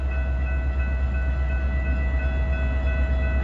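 A Metra Milwaukee West commuter train pulls into Franklin Park station with a loud, steady low rumble and a sustained tonal whine, no voices.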